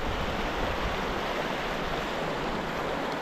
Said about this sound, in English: It's right next to the river here.